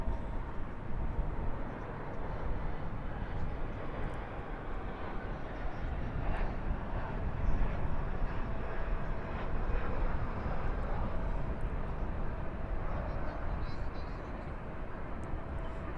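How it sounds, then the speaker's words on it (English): A Delta airliner departs Dallas/Fort Worth airport at night, its steady broadband jet roar holding for the whole stretch at a constant distance, with a faint voice talking beneath it. "And there's that Delta departing."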